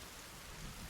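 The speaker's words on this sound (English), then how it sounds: "Okay, it's raining." Steady rain falls in the survival video game The Forest, a continuous broadband wash of drops with faint low rumbling underneath, alone with no voices.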